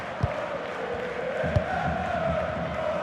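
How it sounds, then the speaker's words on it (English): Stadium crowd in a football career-mode video game, a dense sustained roar of chanting and cheering with a few low thumps underneath, steady and fairly loud. "The crowd certainly think so. Just listen to them."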